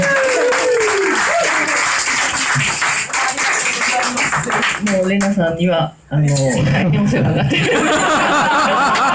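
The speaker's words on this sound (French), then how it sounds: "Et l'applaudir." An audience at a talk by the founder of the Marathon des Sables claps in a full, sustained burst of applause, with a voice speaking over it and a brief dip near the end.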